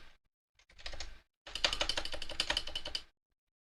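Rapid clacking on a computer keyboard in two bursts, a short one then a longer steady run of keystrokes, close and fairly loud with no talking.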